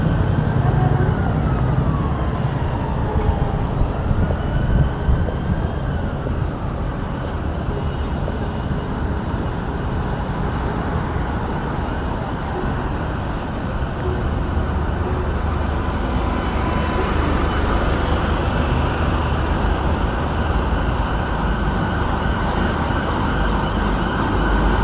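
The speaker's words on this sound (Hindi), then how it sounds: "पुलिस की गाड़ी है।" A police car siren wails through busy London street traffic, rising and falling under a constant roar of passing vehicles and engines, fairly loud and continuous.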